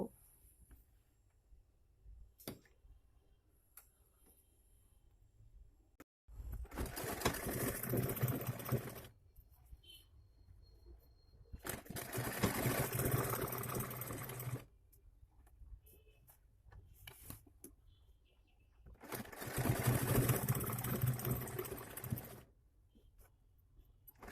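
Sewing machine top-stitching a hijab in three separate runs of steady motor whir, each several seconds long, with quiet handling sounds between them.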